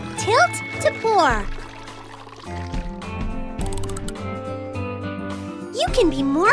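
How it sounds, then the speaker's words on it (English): A drink pours into a glass in the Strawberry Shortcake Sweet Shop candy maker game, a short liquid pour set among chirpy musical game effects and a cheerful narrator's voice. "Just tilt to pour."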